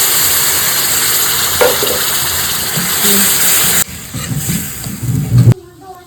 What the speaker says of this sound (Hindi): तड़का लगा रही हूँ, अभी इसकी ग्रेवी तैयार कर रही हूँ।